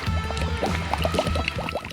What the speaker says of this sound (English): Pouring cement, glug, glug, glug!